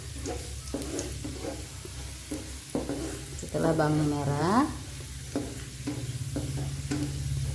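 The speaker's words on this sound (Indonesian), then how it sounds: "Goreng terus sehingga bawangnya merah." Shallots frying in a pan for a coconut-milk fish dish, with a steady sizzle and repeated stirring scrapes throughout, while someone talks over the cooking.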